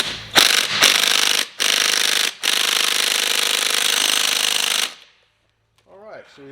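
An impact tool on a size-38 socket drives the clutch nut on a 50cc GY6 QMB139 gas scooter in loud, close, continuous hammering bursts broken by short gaps, stopping suddenly, with a brief voice after the tool stops.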